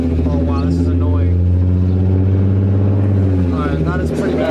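Car driven with its axle-back exhaust section removed, close to a straight pipe, gives a loud steady low drone that holds through the whole stretch, with people talking over it inside the cabin.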